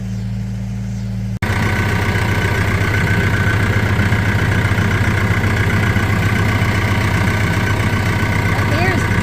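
A tractor engine idles close by after switching on abruptly, a loud, steady low chugging hum that runs on without change, while a person talks to a dog over it.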